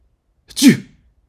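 A single sharp human sneeze bursts out close and loud after a moment of silence, then fades quickly.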